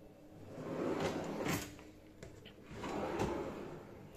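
Two kitchen drawers slide open and shut one after another in a shared kitchen, each a rumbling glide ending in a soft knock, close and moderately loud.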